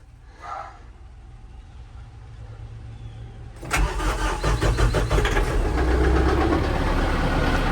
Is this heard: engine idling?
yes